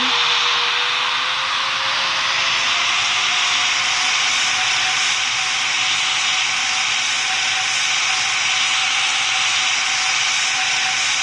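A steady loud jet engine roar from an airliner landing in the Roblox flight game PTFS, with a continuous broadband rush and no voices.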